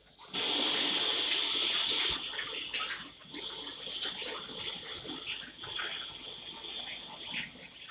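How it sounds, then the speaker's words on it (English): Water tap gushing as hands are rinsed, a loud close burst for about two seconds, then a softer trickle and splashing from handling the water. "Time to rinse off my hands."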